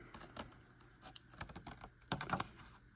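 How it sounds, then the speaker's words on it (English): Scissors snipping small V-shaped notches into paper up to a score line, several short crisp cuts in uneven bursts, close and quiet. "make a little V, cut to the score line"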